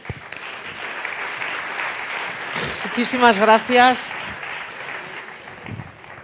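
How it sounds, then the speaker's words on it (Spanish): Audience applause at a startup prize final for culinary technology, a steady broad clapping wash throughout, with someone speaking over it near the middle and thanking the crowd. "Un aplauso grande."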